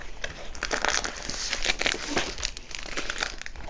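Close, continuous crinkling and crackling of a plastic bag being handled as a diamond painting kit is unboxed, with irregular bursts of rustle and no talking.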